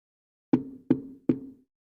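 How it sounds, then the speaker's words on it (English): Three sharp knocks on a door, evenly spaced and close, each with a short hollow ring, followed by silence. "Oh, someone's at the door."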